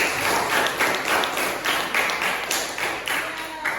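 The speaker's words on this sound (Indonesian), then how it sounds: "Tepuk tangan untuk kelompok." A classroom audience claps for a presenting group, a few dozen hands in brisk, slightly uneven bursts that swell and dip over a few seconds, close by and moderately loud.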